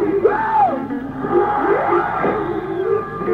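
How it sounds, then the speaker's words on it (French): A concert crowd of about 40,000 at a 1975 show in Narbonne shouts together, a dense, loud, sustained roar with rising and falling whoops. "j'aimerais tous en même temps vous entendre crier"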